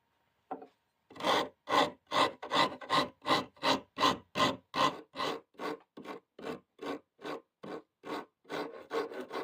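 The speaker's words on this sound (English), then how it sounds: "We use our big aggressive file again." A big, aggressive coarse rasp scrapes across a wooden guitar neck in about twenty steady, rhythmic strokes, loud and close, slowing slightly toward the end.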